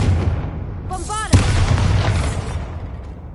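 Bombarda blasting spell in Hogwarts Legacy: a rising magical whoosh followed by a heavy, booming explosion with a low rumbling tail that fades over a few seconds.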